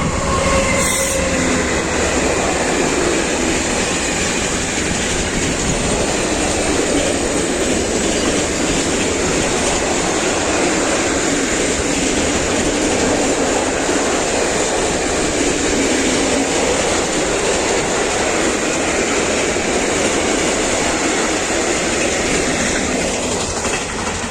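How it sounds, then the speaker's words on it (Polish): A red Class 66 diesel locomotive hauls a loaded freight train past at close range, a loud continuous roar of rolling wagons with rhythmic clickety-clack and wheel squeal lasting throughout. "Ja, czerwony, ładowny skład. Klas 66. Piękna maszyna."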